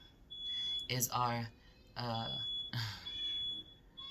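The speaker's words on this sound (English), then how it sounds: "the smoke alarm is going off" A smoke alarm sounds in a home while someone cooks downstairs, a steady high electronic tone running beneath a person talking in the foreground.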